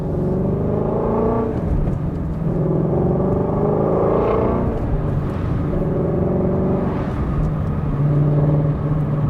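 A Ford Mustang Shelby GT350 engine rumbles loudly and revs in repeated surges, its exhaust note rough and raspy, close by and without talk.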